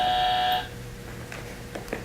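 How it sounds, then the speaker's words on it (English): An electronic buzzer used to call for service in a studio sounds once as a steady, fairly loud tone with harmonics lasting about half a second, followed by quiet room tone with a few faint clicks. "I hit the buzzer"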